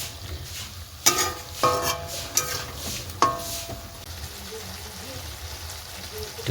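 Flat beans fry in refined oil, a low sizzle under a few sharp clinks and scrapes of a utensil against the pan, with occasional stirring knocks.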